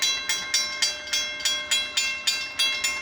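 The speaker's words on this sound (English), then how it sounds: "There's the train." A passing train on Labor Day, its wheels beating out a steady, loud clickety-clack rhythm of about three or four clacks per second over a continuous rolling rumble, with no voices.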